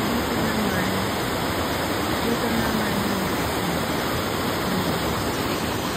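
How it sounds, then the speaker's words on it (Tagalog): A constant, heavy roar of a waterfall in Quezon, Nueva Vizcaya, fed by two falls, fills the scene, loud and unbroken, with a voice speaking briefly beneath it. "dalawang falls ang pinanggagalingan ng tubig ng isa"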